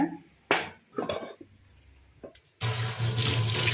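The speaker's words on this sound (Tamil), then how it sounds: "இப்போ கை வாஷ் பண்ணிவிட்டு" Hands get washed under a running kitchen tap, with a few brief splashes and knocks before the water opens to a loud, steady close-up gush.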